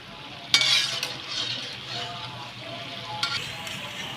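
Millet vadas frying in oil on a low flame, a continuous soft sizzle with a few sharper spatters and utensil knocks against the pan.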